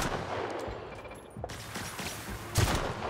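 Enemies open fire in The Outer Worlds, a series of sharp gunshot cracks scattered across the moment, with a heavier, louder shot near the end over low background ambience.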